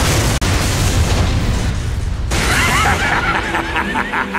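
A grenade blast in the arcade shooter Time Crisis 4 lands as a loud, close boom. A rumbling roar follows, with crackling debris and a short gap of silence in the middle.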